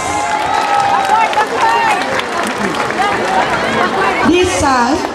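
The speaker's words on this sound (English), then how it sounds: "let's give them a round of" A crowd claps steadily throughout, with voices and chatter rising over the applause, at a kindergarten dance performance.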